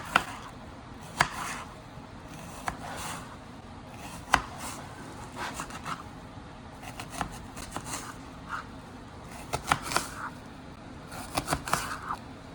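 An onion being sliced lengthwise with a knife on a cutting board, giving sparse irregular chopping taps and board knocks over quiet room tone, with no voices.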